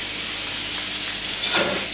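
Marinated chicken pieces for fajitas sizzle in a hot frying pan, giving a steady close hiss with a brief louder surge near the end and no talking.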